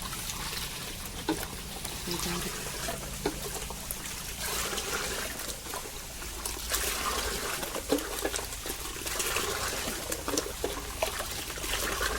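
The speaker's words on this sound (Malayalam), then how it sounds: "അര കപ്പ് കല്ലുപ്പും കൂടി വെള്ളത്തിൽ കലക്കി ഇതിലോട്ട് ഒഴിച്ചു കൊടുക്കുന്നുണ്ട്" Salt water, rock salt dissolved in water, pours and trickles steadily into a fish farming tank for several seconds, soft and continuous, with no talking.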